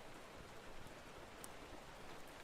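Soft, steady rain falls in an even hiss with faint pattering, quiet and continuous in the background.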